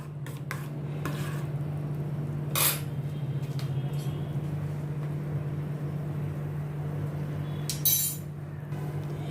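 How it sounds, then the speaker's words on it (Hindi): A spoon stirs pizza sauce with oregano in a pan on a gas stove, giving scattered metallic clinks and scrapes over a steady low hum, with two sharper knocks against the pan; no talking. "ऑरिगेनो डाल के अच्छी तरह से मैं मिक्स करती हूँ।"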